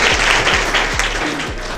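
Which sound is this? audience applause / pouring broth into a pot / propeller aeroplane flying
audience applause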